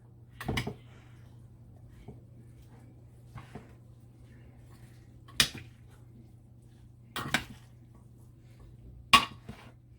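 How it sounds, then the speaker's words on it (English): A chickpea salad being mixed in a bowl: a handful of sharp, isolated clinks and knocks of a utensil against the dish, spaced several seconds apart over a low steady hum in a quiet kitchen. "we are finished mixing the salad"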